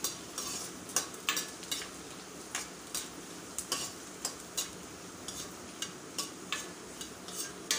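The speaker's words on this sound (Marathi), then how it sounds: "कढईमध्ये तेल गरम झालेलं आहे आणि मी थोडेसे पापड जे आहे तांदळाच्या पिठाचे तळून घेत आहे सुरुवातीला." Rice-flour papad frying in hot oil in a kadhai: a steady, close sizzle with sharp crackles and pops bursting out every half second or so.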